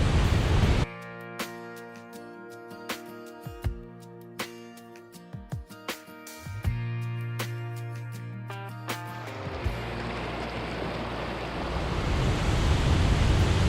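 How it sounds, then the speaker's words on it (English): Creek water after rain rushes at the creek mouth on a frozen, wet farm day. A steady broadband wash sits under droning tonal hum and scattered knocks, then comes through alone and louder over the final few seconds. "I'm right at the mouth of this creek."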